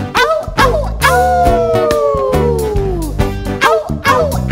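People imitating a dog howling during a children's music and movement song, a loud chorus of voices sliding down in a long howl, with rhythmic beats and yips around it.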